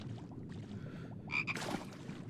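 A frog croaks in the Little Mouse's Encyclopedia children's app, a series of rapid raspy croaks repeating in bursts, close and clear with no talking.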